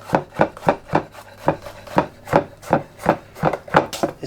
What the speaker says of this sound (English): I'm just going to be slicing it really small